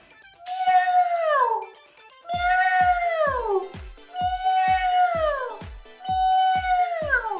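A singer's voice imitates a high-pitched cat meow as a vocal warm-up exercise, four drawn-out falling meows in a steady sequence, loud and close with clear harmonics.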